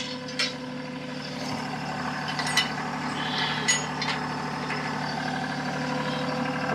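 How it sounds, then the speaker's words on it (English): A TYM T264 tractor idles steadily while its backhoe and outrigger are shifted, a low continuous engine drone with a few brief metallic clanks and knocks over it, moderately quiet and free of speech. "move the backhoe up and down a little bit with the outrigger to make sure that slides through real easy"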